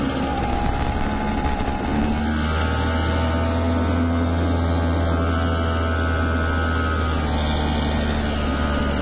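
A go-kart engine running on wet grass in a garden, a loud, steady, close motor drone with a low rumble that persists unbroken throughout.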